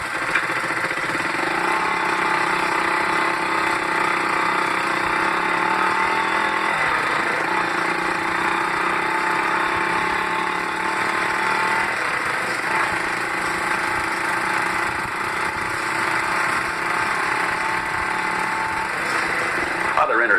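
A motorcycle accelerates through the gears up to about 20 miles an hour on a road, its engine buzzing steadily with shifting pitch sweeps throughout, close and fairly loud.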